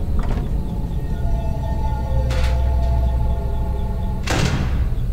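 A door slides shut in the Five Nights at Freddy's game, Plushies 4 Origins V3, with two broad whooshing closes a couple of seconds apart over a steady low mechanical hum.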